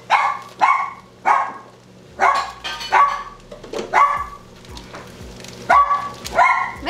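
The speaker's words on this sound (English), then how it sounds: "Barking, barking," A dog barks repeatedly in short loud bursts inside a home kitchen while a meal is being cooked on a rainy day. There are several close barks, with brief pauses between them.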